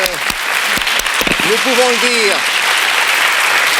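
Studio audience applause for a winning couple on a 1970 French television game show, loud clapping running throughout while someone speaks over it early on.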